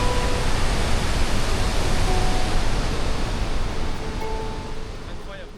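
Waterfall in the middle of a jungle in the Philippines, heard from right at its foot: a loud, steady broadband roar of crashing water that fills the whole clip, easing only slightly toward the end.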